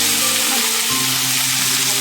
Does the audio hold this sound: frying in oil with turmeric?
yes